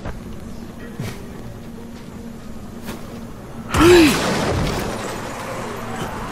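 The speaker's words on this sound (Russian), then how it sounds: "Грохнулся. Очень удачно грохнулся. Прямо на это, на фанеры." Game character in Dying Light crashing down onto plywood sheets, a single sudden heavy thud and crunch partway through, followed by rumbling debris noise, over quiet ambient game sound.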